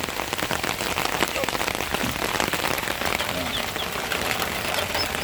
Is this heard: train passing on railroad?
no